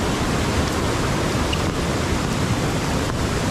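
The flooded Kajali river in a Konkan village rushes past close by, a loud, continuous broadband roar of fast-flowing water with no voices.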